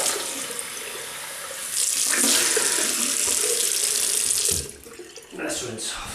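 Tap water runs steadily into a sink while a vintage 1946-48 Gillette Aristocrat double-edge razor is rinsed after shaving, a close, continuous splash that briefly breaks up near the end.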